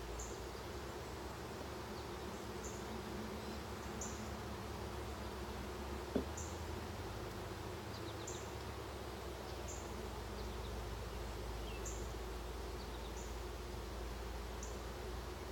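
An opened hive of queenless, agitated honeybees fills the air with a dense, continuous buzz that stays level throughout, broken only by a single faint click partway through.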